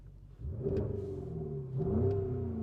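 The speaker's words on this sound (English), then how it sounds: "Give it some revs there." A 2024 Porsche Cayenne with sport exhaust switched on gives two short revs, each a rising growl that falls back to idle, heard from inside the cabin at moderate volume.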